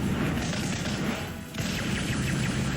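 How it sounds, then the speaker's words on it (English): Heavy crashing impact effect of the Earth Shattering Stomp attack in Digimon Story Cyber Sleuth: Hacker's Memory, a loud, continuous rumbling smash with a brief dip midway before the crunching resumes. "Earth Shattering Stomp."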